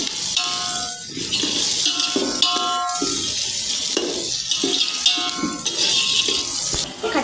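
Onion and green chillies frying in a pan, a steady bright sizzle with scraping and stirring clatter throughout, close and continuous.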